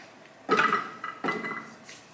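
Chopped shallot, garlic and ginger tipped into a blender jug, two or three clattering clinks of food and utensil against the jug, close and fairly quiet in a kitchen.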